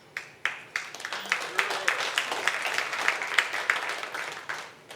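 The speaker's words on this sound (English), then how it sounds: "you should all give yourselves a pat on the back or a round of applause" A conference crowd at a DevOps talk claps for itself, starting with a few scattered claps that swell into lively, rhythmic applause with distinct sharp hand claps, then taper off.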